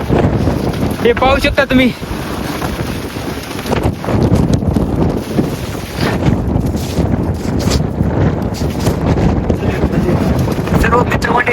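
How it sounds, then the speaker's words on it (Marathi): Strong wind buffets the microphone high on Kalsubai peak in Maharashtra, roaring in loud gusts throughout while a person talks over it. "एवढं जोरात वारा आहे ना, ढकलत आहे"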